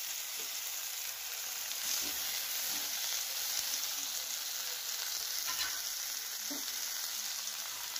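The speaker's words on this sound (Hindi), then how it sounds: "अब हम इसमें टमाटर ऐड करेंगे।" Tomatoes frying in a pan over medium heat for fish curry, a steady close sizzle with soft hiss running throughout and faint stirring scrapes, no voices.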